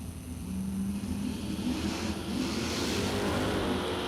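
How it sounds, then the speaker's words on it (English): Drag racing car engine at a race event, heard from a distance as a steady, loud roar that rises and swells with throttle blips as the driver repeatedly goes in and out of the throttle. "somebody is in and out of the throttle"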